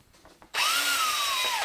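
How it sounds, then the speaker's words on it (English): A new electric drill spins up abruptly after a few soft taps and runs steadily at high speed, a loud close whine holding for about a second before winding down slightly. "Just not on your dad's new drill."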